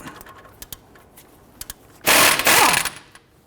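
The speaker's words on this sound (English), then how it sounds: "Now we got our lower bolt out with our impact gun" An impact gun loosens the 19mm caliper bracket bolts on a Nissan Frontier, a few light clicks leading into one loud, close, rattling burst of just under a second.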